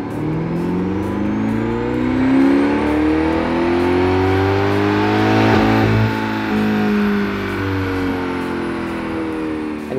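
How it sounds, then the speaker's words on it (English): A C8 Corvette fitted with a Lingenfelter pTR carbon fiber intake manifold revs hard on a dyno in a dyno cell. The engine climbs steadily to a loud peak, then winds back down over about ten seconds, with no talking. "We're back in our dyno cell today and we're testing the Lingenfelter pTR carbon fiber intake manifold."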